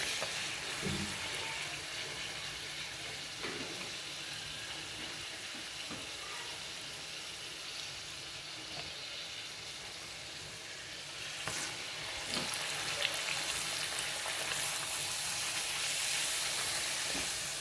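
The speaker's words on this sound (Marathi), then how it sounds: "अशा प्रकारे आपल्याला ह्या पुऱ्या तळून घ्यायच्या आहेत." Puris deep-frying in hot oil, a loud continuous bubbling sizzle that holds steady throughout, with occasional brief clatters of a utensil and the hiss swelling near the end.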